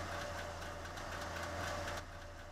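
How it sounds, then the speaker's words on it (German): A Mercedes Citaro city bus engine idles in the OMSI 2 driving simulator, a low, steady diesel hum with a faint knocking rattle, quiet and unchanging, with no voices. "Wir starten mal den Motor."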